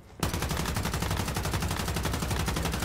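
After a brief quiet start, a legendary weapon in Once Human opens up in rapid, evenly spaced automatic fire against Rosetta enemies, loud and close, each shot repeating in a tight steady rhythm until the end.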